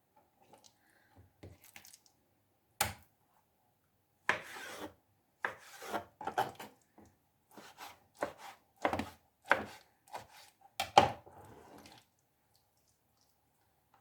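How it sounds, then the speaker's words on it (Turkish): A knife chops eggplant into cubes on a cutting board in irregular bursts of quick, crisp strokes with short pauses between, close and fairly quiet. "Patlıcanları da aynı şekilde şöyle üçe bölüyorum."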